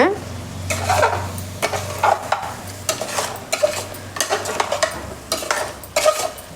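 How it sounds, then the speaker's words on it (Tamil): Mutton curry masala is stirred in a pan, with repeated loud scraping strokes of a spoon against metal over a steady background sizzle, arriving in an uneven rhythm of about eight bursts. "கிளறி விட்டுக்கோங்க"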